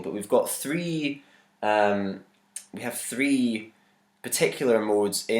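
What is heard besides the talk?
No everyday noises stand out.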